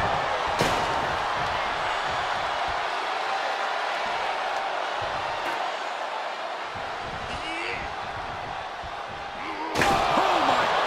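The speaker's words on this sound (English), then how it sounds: "Face first into the chair." In a wrestling video game Hell in a Cell match, a wrestler is slammed face first into a chair, giving a sharp impact. A second heavy thud follows later over crowd noise and ongoing commentary.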